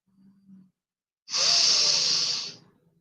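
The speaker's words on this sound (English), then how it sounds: "Breathing in, out, letting everything go with that out breath." A slow guided breath: a faint soft inhale followed by a loud, long airy exhale lasting over a second, then quiet, heard alone with no talking.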